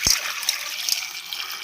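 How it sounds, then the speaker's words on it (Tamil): A copper pot of water pours into a cooking pot holding cassava, turmeric powder and rock salt. A short splash opens into a steady, close trickle and gurgle of liquid. "இப்போ ஒரு செம்பு தண்ணி ஊற்றிக்கலாம்."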